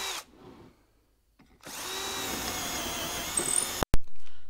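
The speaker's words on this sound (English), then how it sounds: "You can see it drill one more time." A power drill spins up and bores into wood through a drawer pull jig. One steady close whine lasts about two seconds, then stops with a sharp click.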